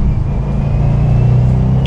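A 2021 Subaru WRX STI Limited in sport mode pulls hard in second gear, its engine and exhaust a loud, steady low rumble that builds briefly with no voices over it.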